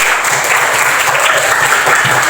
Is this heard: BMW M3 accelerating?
no